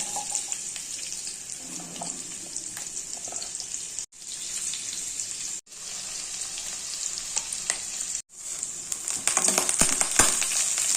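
Tempering spices for a beans curry fry in a pan with a steady, soft sizzle, broken by a few brief silent cuts and occasional faint clinks.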